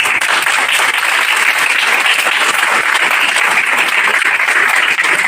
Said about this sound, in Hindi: एक बार जोरदार तालियों के साथ